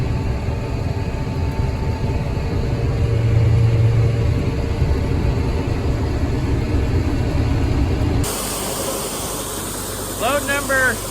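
A farm tractor pulling at full throttle in 14th gear at about 13 miles an hour during the soybean harvest, a steady loud engine drone and rumble heard from the cab, then a shift in tone with a voice near the end.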